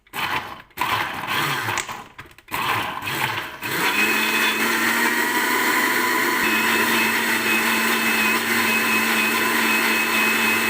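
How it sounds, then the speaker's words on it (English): Electric kitchen mixer grinding a batch of Indian spices into a paste for chicken masala, a few short bursts and clatter first, then a loud, steady whirring grind running on without pause. "So first we have to grind this one. So I have here the mixer."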